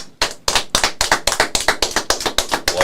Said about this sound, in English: Why did it take you so long to start clapping?